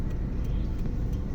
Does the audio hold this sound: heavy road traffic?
yes